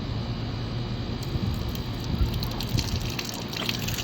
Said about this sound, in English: when you turn it on, it shoots water.